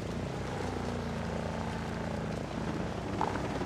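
Helicopter in a Sam Fisher video game: a continuous, fairly faint rotor and engine drone holding steady throughout, with no talk over it.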